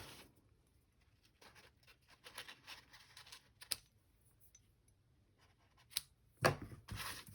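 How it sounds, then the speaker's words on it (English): Scissors trim the edges of a paper pillow box, with quiet close snips and paper rustles coming in irregular bursts, plus a couple of sharper cuts near the end. "And then I'll just trim up my little edges."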